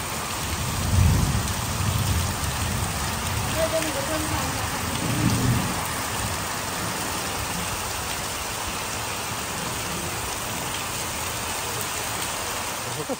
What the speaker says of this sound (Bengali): বৃষ্টির শব্দটাও শুনতে খুব ভালো লাগে প্রচুর পরিমাণে বৃষ্টি